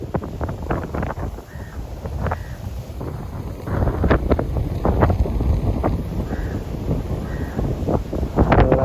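Strong wind buffets the microphone at an open kite-flying field, gusty rumbling bursts repeating throughout and growing stronger in the second half.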